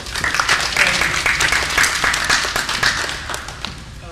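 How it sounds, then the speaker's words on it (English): An audience at a community meeting applauds a speaker, dense steady clapping from many hands close by that keeps up throughout and thins slightly toward the end. "Give him a round of applause"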